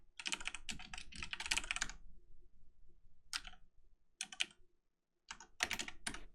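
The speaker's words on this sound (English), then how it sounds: "one moment, I gotta type this out." Bursts of fast typing on a computer keyboard, close and fairly loud, coming in several separate runs of key clicks with short pauses between them.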